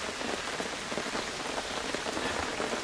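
At a fishing spot on the Labe river, rain patters steadily and densely on surfaces, a continuous hiss with no voices.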